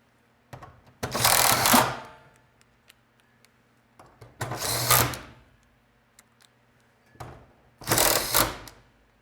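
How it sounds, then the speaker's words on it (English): A power driver sends new tech screws into the existing holes of a garage door hinge in three separate whirring bursts, each about a second long, with short pauses and faint clicks between them. "put it right back in the same holes with the new screws"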